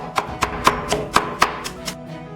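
Scallions and cabbage are minced on a board with a knife, giving about eight evenly spaced, crisp chops that fade slightly toward the end.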